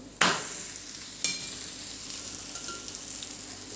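Thalipith flatbread roasting in oil on a hot pan sets off a sharp sizzle that jumps in suddenly, flares again a second later, then settles into a close, steady crackling hiss with no voices.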